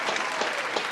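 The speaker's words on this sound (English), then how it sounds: "let's go ahead and clap it in." Studio audience applause at a talk show interview, dense steady clapping with a few louder peaks across a short burst.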